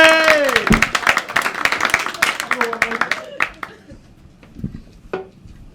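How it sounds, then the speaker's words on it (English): Comedy club audience at Hot Water Comedy Club clapping and cheering as an act is welcomed to the stage. A loud voice speaks at first, then a burst of scattered clapping trails off to a few last claps. "Clap and move and cheer."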